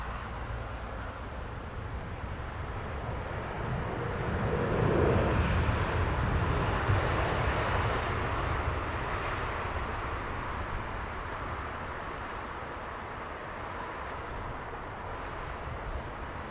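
An airplane arriving at Heathrow Airport in the evening, a broad distant roar that swells to a peak midway and then slowly fades, with no talk.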